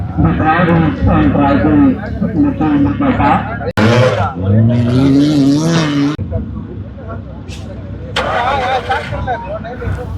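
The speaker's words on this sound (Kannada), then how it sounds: "ಗಾಡಿ ಬಂದಿರೋದು ನೋಡಬಹುದು ಈ ಗಾಡಿ ಬಂದ್ಬಿಟ್ಟು ತಮಿಳ್ನಾಡು" Rally car at the Chikmagalur car rally, its engine roaring close and loud beneath a crowd of people talking and shouting, with the revving more exposed near the end.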